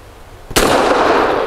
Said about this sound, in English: 5 shots from 7 yards with the Nosler 230 grain match on the right circle square.